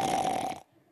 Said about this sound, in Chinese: 就听到路旁的一棵大树后面传来了打呼噜的声音